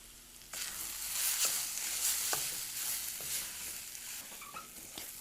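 Spiced potatoes and chickpeas with salt, saffron and masala sizzle steadily in a pan while being stirred, soft scraping and shifting sounds rising over the continuous frying hiss, with no voices.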